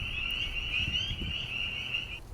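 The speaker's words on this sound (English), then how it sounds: "Now let's hear what a spring peeper really sounds like." Spring peeper frogs call in a dense, steady chorus of high, piercing peeps that run continuously with no voices present.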